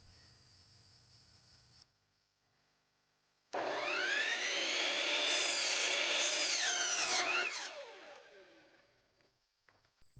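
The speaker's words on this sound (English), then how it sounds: "Now it's time to cut the top plate." A power saw cuts through a wooden top plate for a crawl-space root cellar: a loud, steady whining cut of about four seconds after a quiet pause, then the blade spins down and stops.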